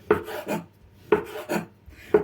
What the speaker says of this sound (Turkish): Şuradan ucundan bunun hepsini böyle doğrayacağım